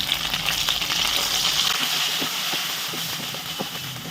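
Curry leaves and coriander sizzle steadily in hot oil for a dried fish curry, a dense continuous frying hiss with faint crackles and stirring, close and even throughout.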